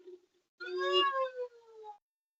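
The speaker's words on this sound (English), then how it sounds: "Swamp Cat's making a really weird noise" A cat lets out a strange, drawn-out wavering meow, preceded by a short quieter call, clear and close in a silent setting.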